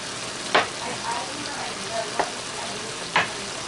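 Pimientos and olives fry in a pan with a steady close sizzle, broken by a few sharp clicks and scrapes of stirring.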